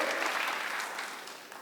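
A church congregation claps together at a worship service, a steady dense patter of many hands that fades slightly toward the end, with no one speaking.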